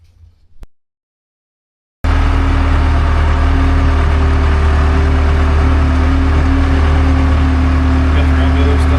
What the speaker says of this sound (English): we're going to get this round baler moved from this spot over here to this one and get it tucked in there with the skid loader